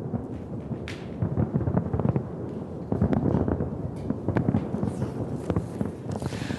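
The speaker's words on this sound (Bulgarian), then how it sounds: "Кулминацията беше небесното шоу с фойерверки, което президентската двойка наблюдава от Белия дом." Fireworks display over the White House in Washington, watched at a presidential inauguration celebration: dense, continuous rumbling booms and crackles at a distance, swelling in waves with no talk.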